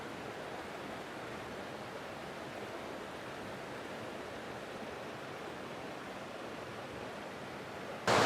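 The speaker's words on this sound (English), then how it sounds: "this is Skate Creek behind me" Skate Creek runs beside a riverside campsite with a steady, broadband rush of flowing water, loud and constant throughout with no voices, ending in a brief sharp burst at the very end.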